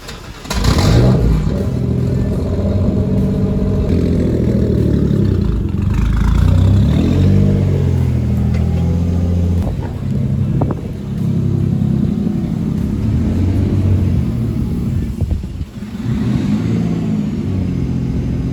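A Mercedes W203 turbo car is driven into a garage, its engine rumbling loud and close with several revs and throttle swells rising and falling, then idling down near the end.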